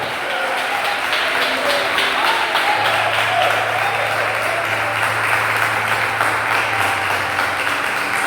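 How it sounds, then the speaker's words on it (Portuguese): Church congregation applauding together in a sustained, dense wash of clapping, with a steady low hum running beneath from the middle onward. "dê sua menor salva de palmas do Senhor Jesus"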